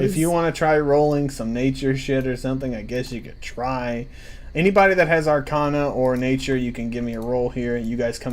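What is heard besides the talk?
None of the usual background noises is heard.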